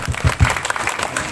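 A brief burst of crowd applause for the organizing committee at an evening village religious gathering, close and fairly loud for just over a second.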